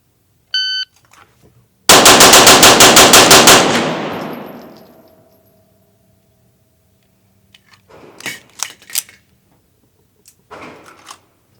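A custom 1911 pistol is fired on a range after an electronic shot-timer beep, giving a rapid string of loud sharp reports that ring out and decay, with scattered handling clicks and clatter afterward.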